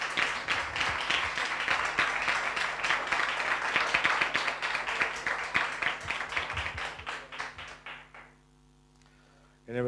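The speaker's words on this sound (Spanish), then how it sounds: "Démosle un aplauso, Señor." A church congregation applauds with brisk, close claps during a sermon, the clapping thinning out and stopping after about eight seconds, leaving a quiet hum before a voice resumes.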